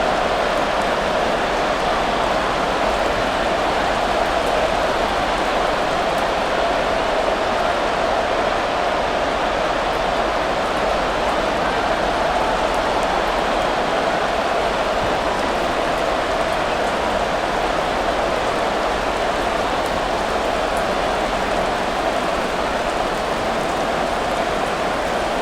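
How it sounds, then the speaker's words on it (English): Steady rain falls over a football match in Madden NFL 24, a continuous, even wash of hiss that holds unchanged throughout with no distinct drops or voices standing out. "The rain set to continue as we are underway in the second half."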